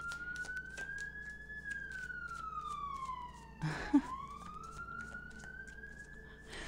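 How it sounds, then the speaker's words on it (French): Police sirens pass outside, a steady wailing tone rising and falling in pitch, moderately loud, with a brief clatter midway as the siren dips. "En plus, avec les sirènes de police ici, là."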